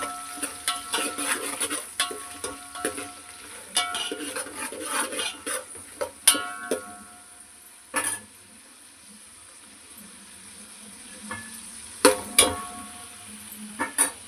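Chillies, onion and carrot pieces frying for bagara rice, with a steady soft sizzle under frequent clinks and scrapes of a spoon against the pan, with short pauses between bursts of stirring.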